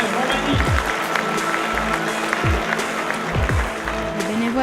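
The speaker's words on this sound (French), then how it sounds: "Mesdames et messieurs, applaudissez" An audience applauds a volunteer at a community event, with steady clapping from a crowd under and around a voice talking over it.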